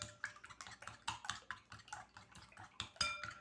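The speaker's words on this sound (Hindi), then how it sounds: "और इसी में चीनी फेंटनी है।" Sugar is whisked briskly in a bowl for a milk powder, egg and semolina halwa, giving quick, steady clicking and scraping strokes close by, with no talking.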